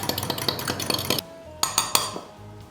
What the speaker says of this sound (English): We're going to give it a quick little stir.